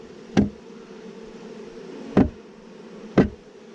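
Honeybees fanning at a hive entrance while colonies are combined with the newspaper method, a steady close insect hum with three sharp knocks spaced through it.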